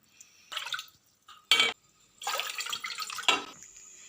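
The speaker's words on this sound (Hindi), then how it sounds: "पैन में हम 2 कप पानी" Water pours into a pan in several short splashing bursts with pauses between, close and fairly quiet, ahead of making Kashmiri pink tea.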